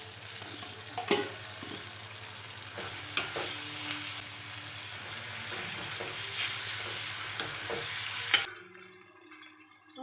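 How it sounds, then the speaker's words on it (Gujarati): Okra tipped into a hot pan for a Punjabi-style okra and potato curry sizzles loudly and steadily while a utensil scrapes and stirs, then the frying noise drops off sharply near the end. "હવે આપણે જે ભીંડો સાઈડમાં કાઢેલો એ એડ કરી દઈશું"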